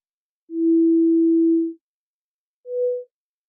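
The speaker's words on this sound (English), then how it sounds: "I'll hit the note, and then half a second later we'll hear it." A pure, sine-like synth note passed through a half-second delay module holds for just over a second, then after a pause a shorter, higher blip sounds alone in silence.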